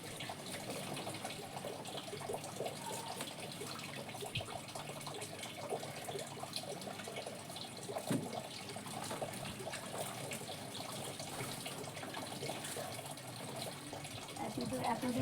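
Water splashes and trickles steadily as potted plants in a rooftop garden are watered, a continuous soft pouring with faint talk underneath.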